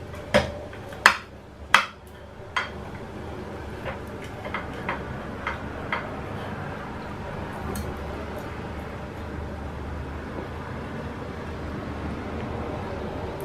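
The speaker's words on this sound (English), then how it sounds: "Just going to use this spatula and I'll cut it around." A spatula cuts around and dishes out a home-cooked pie, giving a few sharp scraping clicks against the dish early on, then faint occasional ticks over a low steady background.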